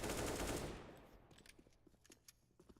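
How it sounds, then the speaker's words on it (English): Burst of USP pistol fire in the tactical shooter CS:GO, a dense loud volley at first that fades into scattered sharper shots and clicks, heard alone without voices. "going to find Hustar walking in T-spawn and pepper him with some bullets from his USP"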